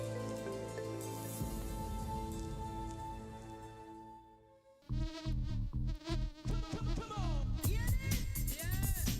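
Honeybees buzz in a dense, sustained drone with many overlapping tones. It shifts into busier, fluttering buzzing as individual bees pass close by.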